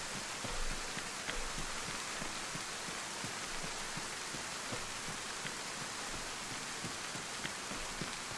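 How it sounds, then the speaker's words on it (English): Steady rain falls throughout in the DayZ survival game, a dense continuous hiss with scattered close droplet ticks, fairly loud and even with no voices. "I hope it will stop raining."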